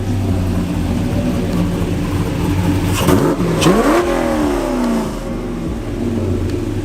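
An LS-swapped drift car engine idles loudly up close, then revs sharply, its pitch sweeping up and settling back into a steady rumble.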